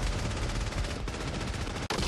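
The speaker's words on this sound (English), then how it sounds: "Someone's shooting me!" Continuous heavy gunfire in a PUBG battle royale match, dense and sustained bursts filling the whole stretch with only a brief break near the end, loud and close with no talk over it.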